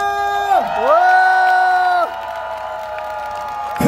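A crowd at the first Gimhae Hanwoo beef festival concert cheers loudly with one strong, drawn-out rising and falling shout on top, then the noise fades to a lower murmur.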